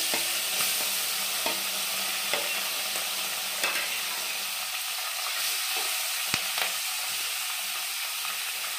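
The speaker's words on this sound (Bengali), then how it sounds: "মাছগুলো আমি ভেজে নেব। এবার মাছগুলো দিয়ে দেবো।" Small puti fish fry in oil in a pan, producing a continuous close sizzle broken by occasional sharp clicks and scrapes of a utensil, with no voices.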